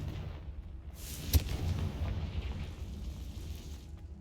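A Confringo fire curse in the video game Hogwarts Legacy bursts in a sharp blast, followed by a deep rumbling roar that lingers and slowly fades.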